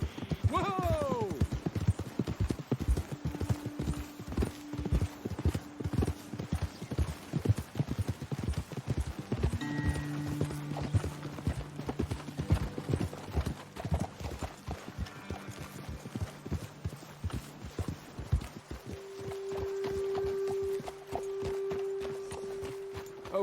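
Horses walk along a trail in Red Dead Redemption 2, hooves clip-clopping in a steady, close rhythm that slows and stops, with game voices talking over part of it and a brief tonal hum.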